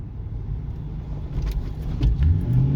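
A used car driving over large road bumps, heard from inside the cabin as a low rumbling engine and road drone with a few dull thumps and rattles as the wheels hit the bumps.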